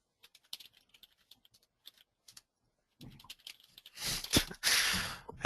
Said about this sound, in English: Having a hard time typing here